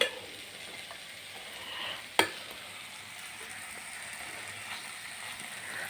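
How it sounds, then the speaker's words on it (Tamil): Cooked rice stirred into tomato masala in a pan for potato rice, a soft, fairly quiet frying hiss with faint scraping and one sharp clack of a utensil against the pan. "இப்போது சாதத்தை இதோட போட்டுடலாம்"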